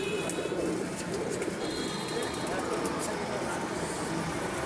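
Pet pigeons coo softly and repeatedly near at hand over a steady noisy background, with faint speech-like murmuring mixed in.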